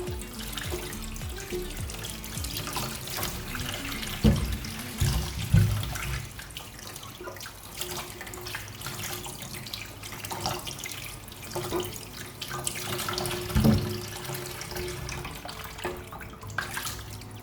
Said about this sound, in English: Making sure that you rinse it, you wash it.